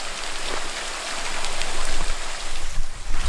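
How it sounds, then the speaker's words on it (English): Water spouts and sprays from leaks in an old redwood flume, a steady broadband hiss and patter like heavy rain, fairly loud and close, swelling slightly toward the end with no voices. "there's just sprouts of water just shooting out of it"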